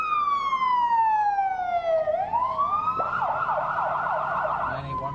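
An ambulance siren wails loud and close, a long falling tone that swoops back up into a rapid warbling yelp, with traffic rumble beneath and no talking.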